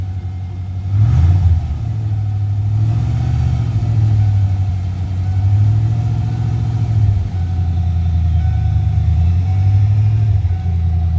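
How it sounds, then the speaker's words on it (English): A Ford F150 pickup engine, just restarted after its fuel system was primed following a tank replacement, runs loud and close with a rough idle and several slow revs that rise and fall in a wavering rhythm. "give it some gas to make sure it's going to stay running"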